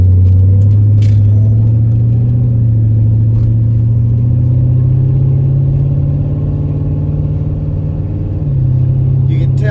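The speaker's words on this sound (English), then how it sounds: "The exhaust is just a little too truck-like for my taste." A New Edge Ford Mustang GT moves off with a deep, steady exhaust rumble that stays loud and close, droning evenly with a slight shift in pitch near the end.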